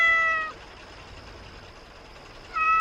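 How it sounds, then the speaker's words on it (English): A cat meows twice, once at the start and again near the end, each a clear short call with a quiet stretch of low background hiss between them. "How's my cat? Is she alright? She is. She's right here now."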